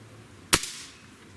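A single sharp shot from a Crosman TR77 air rifle, a loud close crack with a short fading tail, alone in a quiet room.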